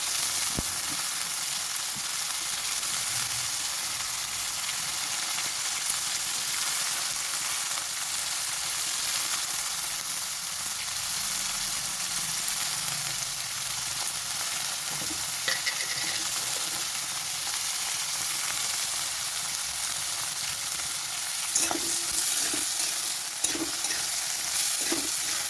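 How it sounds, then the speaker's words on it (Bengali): Chopped vegetables fry in white oil in a pan, giving a steady close sizzle for the whole stretch, with occasional scraping and clinking as they are stirred, and no talking. "এদিকে রাইসের জন্য যে সবজিগুলো কেটে রেখেছিলাম সেগুলো সাদা তেল দিয়ে আমি ভেজে নিচ্ছি"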